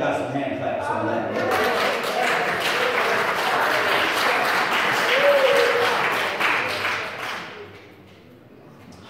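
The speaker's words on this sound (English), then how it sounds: "I wish I had got some hand claps on that." Church congregation applauding during a sermon, a full, steady burst of many hands clapping that rises, holds for several seconds, then fades out, with some voices mixed in.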